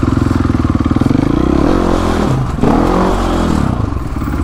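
A supermoto motorcycle climbs a set of stairs, its engine loud and close with a steady buzzing drone that surges and revs, along with a jolt and clatter partway through.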